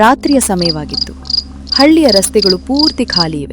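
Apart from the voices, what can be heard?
night insects and frogs chirping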